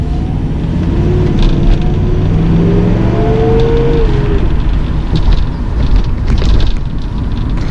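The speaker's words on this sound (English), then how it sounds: "I removed the catalytic converter on the car for a little bit more of exhaust note" Exhaust note of a 1984 Mercedes-Benz 380SL R107 running without its catalytic converter, a loud, steady engine drone with rising and falling revs throughout, no voices.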